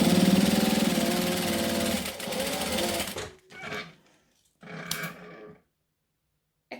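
A home sewing machine runs a stitching pass along a fabric edge for a wallet, then stops and makes two shorter reverse bursts for back stitching, close and fairly loud with no talk.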